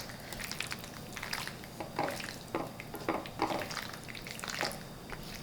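A pound of pasta being stirred into vegan squash cheese sauce in a big mixing bowl: soft, wet squishing and scraping in uneven bursts, quiet and close, with no talking.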